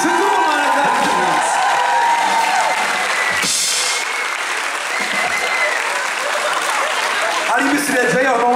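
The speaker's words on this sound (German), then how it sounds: "Applaus für das dynamische Duo" A club audience at Cobra Solingen applauds a duo after a live set of a cover band: steady, dense clapping with a few cheers, loud and continuous throughout, and a voice heard briefly over it.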